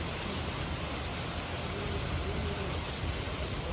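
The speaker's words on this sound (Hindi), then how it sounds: "बारिश हो गई और धूप भी निकल रही है" Rain pours down steadily outdoors while the sun is shining, a dense, even hiss of drops that stays constant throughout with no voices.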